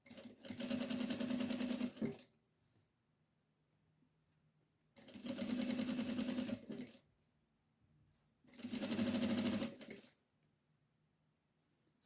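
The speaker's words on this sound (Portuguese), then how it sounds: "aqui eu vou passar uma costura com pezinho de máquina" A sewing machine with a presser foot stitches a fabric band in three loud, steady runs of about two seconds each, separated by near-silent pauses.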